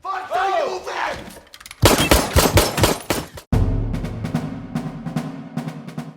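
Pistol shots fired in a film scene, a rapid volley of loud, sharp cracks followed by a further string of bursts and echoing reports over a rumbling background, with no talk.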